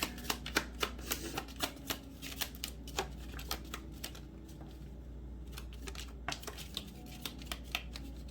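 Under the Roses tarot cards being shuffled by hand: a steady run of soft, papery riffles and taps, close and fairly quiet, with no talking.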